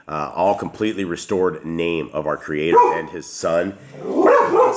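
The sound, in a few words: dogs barking in the room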